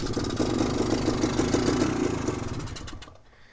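A troublesome Honda MT250 motorcycle engine catches and runs, a close, rough, steady idle throb lasting about three seconds before fading out.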